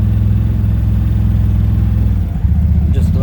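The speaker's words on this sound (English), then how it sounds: "And listen to the CVT." A CFMoto ZForce 950 HO EX side-by-side fitted with an RNG clutch kit pulls off with a smooth, steady low CVT and engine hum that eases and shifts briefly before resuming.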